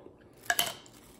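A spoon clinks twice against a dish in quick succession while almond butter and honey are mixed, close and fairly quiet, with near silence before and after.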